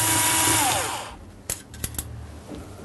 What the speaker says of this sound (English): So, we just need to remove this screw. Make sure you hold on to the nut.